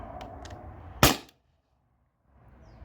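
A single sharp crack from a T4E HDP50 Gen 2 13 joule air pistol firing a steel ball, close and loud, followed by a moment of near silence.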